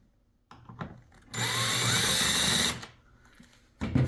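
A power screwdriver whirs for about a second and a half, removing screws from the brush roll of a CleanMax Champ CMP-5T commercial upright bagged vacuum cleaner, with brief clicks and handling noises before and after the burst.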